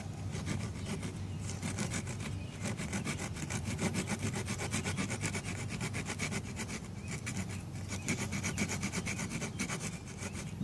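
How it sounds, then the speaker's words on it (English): A hand saw rubs rapidly back and forth across wood to shave off fine shavings for an ember, a loud, close rhythmic rasping with brief pauses between bursts of strokes. "So you're just going to take your saw and you start making"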